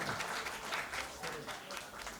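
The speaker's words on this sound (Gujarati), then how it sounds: "જોરદાર તાળીઓથી અભિવાદન કરે" An audience at a Ghatkopar Brahmin community gathering for a wedding-songs program claps to welcome a guest. The applause is soft and somewhat distant, with a voice talking over it.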